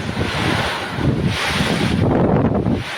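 Strong gusting wind roars continuously and loudly through trees in San Juan, Batangas, buffeting the microphone with a deep rumble and rushing noise.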